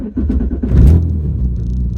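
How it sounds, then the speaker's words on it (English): A loud old Alfa Romeo engine idles close by with a low, uneven rumble, swelling briefly before settling back to a steady throb. "the car is extremely loud, as you've heard it before"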